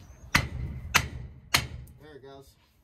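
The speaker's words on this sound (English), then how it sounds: "We'll also get the big hammer," A big hammer strikes a rusted car part on an abandoned Meteor three times, each a sharp, fairly close metallic bang at a steady interval, followed by a brief voice.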